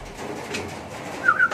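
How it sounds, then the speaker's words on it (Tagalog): Pigeons coo softly at close range, a short run of low murmuring calls with a couple of brief higher notes toward the end, heard with no talking. "Yan mga kalapatids."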